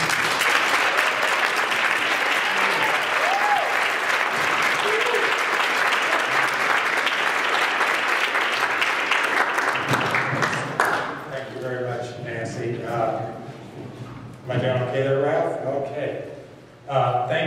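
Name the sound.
audience applause welcoming a keynote speaker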